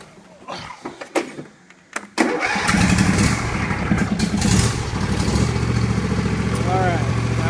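John Deere L118 lawn tractor with a freshly replaced transmission fan: a few clicks and cranking, then the engine catches around two seconds in and settles into a loud, steady idle that runs to the end.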